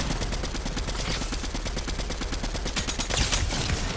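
Fortnite gunfire rattles in a dense, continuous automatic burst for several seconds, loud and close, with no voices over it.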